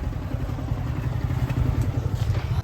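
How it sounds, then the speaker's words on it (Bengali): A motorcycle's engine rumbles low and steady close by as the bike is brought to a stop and parked on an empty rural road beside open fields, with no one speaking. "আর এখানে এখন আমাদের বাইকটা রাখতে হবে"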